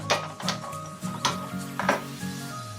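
Spices tempering in a pan before dried fish is fried, in village cooking: a quick series of sharp clicks, pops and metallic clinks over a soft sizzle, close and moderately loud, with no talking.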